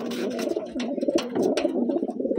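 Pigeons in a loft coo in repeated low throaty rolls, close and continuous, overlapping one another with a few sharper wing or foot sounds mixed in.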